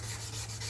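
Sandpaper rubs back and forth across a car headlight assembly in cross-hatched strokes, a close, rhythmic scratchy swish with no talking.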